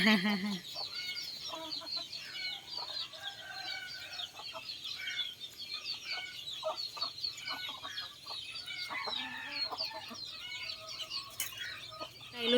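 Young chickens on a small backyard poultry farm cluck and chirp steadily in a dense, overlapping flock, with occasional wing flaps and faint voices in the background.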